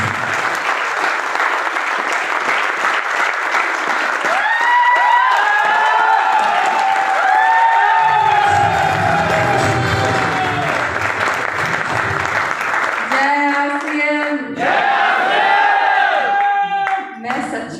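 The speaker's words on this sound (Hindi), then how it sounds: "तो एक बार जोरदार तालियां" An indoor audience at a motivational meeting breaks into loud, sustained applause with cheering and shouts, the clapping running steadily throughout at close range.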